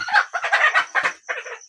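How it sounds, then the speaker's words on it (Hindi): An Aseel rooster crows and clucks in several loud, close bursts with short gaps between them, standing out clearly with no voices present. "ये मुर्गा बहुत ही शैतान है"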